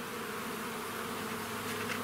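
Honey bees buzzing at a hive entrance, a steady dense hum of many wings close by, continuous and unbroken with no voices.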